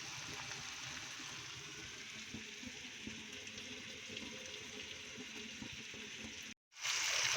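Blended onion paste fries in a pan for palak chicken, giving a steady, dense sizzle and hiss that runs evenly throughout, broken by a brief silent gap near the end.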